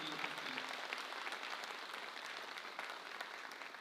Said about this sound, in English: let's give a round of applause to Tyrese for beautiful, beautiful speech